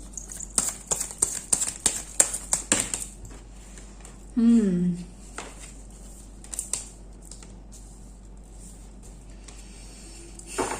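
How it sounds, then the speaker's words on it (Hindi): Tarot cards being shuffled by hand during a card reading: a quick run of dry, papery clicks and flutters over about three seconds, then a short louder rustle, with quieter handling after. "एक दो कार्ड्स और शफल करती हूँ आपके लिए।"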